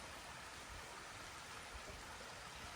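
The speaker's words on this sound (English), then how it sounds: "We never get tired of the sound of water cascades." Steady broadband rush of falling water, constant and fairly soft, like a cascade heard from a short distance on the John Muir Way between Linlithgow and South Queensferry, with no voices.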